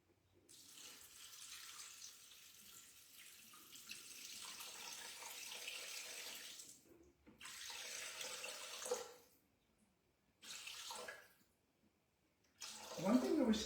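Water runs steadily from a tap or jug into a Thermomix bowl, 600 ml measured out in several bursts with short pauses between them, near and fairly quiet.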